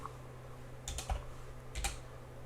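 Close keystrokes on a computer keyboard while Java code is entered, a few quick clustered taps in two short bursts over a steady low hum, with no talking.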